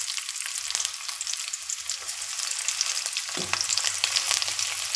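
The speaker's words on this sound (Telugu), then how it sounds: "ఈ ఉల్లిపాయ ముక్కలే మెయిన్ మనకు ఎర్రగా వేగాలన్నమాట" Sliced onions for egg curry frying in a pan, a fairly quiet, even sizzle with occasional soft scrapes, no talking.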